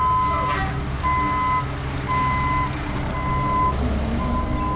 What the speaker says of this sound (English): Here comes another load of gravel